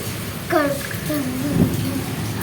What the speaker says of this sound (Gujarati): કુદરતનું સાયરન વાગે છે અત્યારે ગાજે છે એવો અને વરસે છે એવો